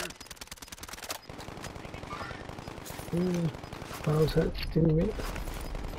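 Rapid machine-gun fire in a video game rattles in fast, regular bursts, close and loud, while players talk over the shooting and a few electronic tones chirp near the end.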